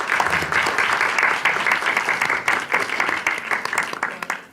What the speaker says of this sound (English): we'll clap and then we'll clap again at the end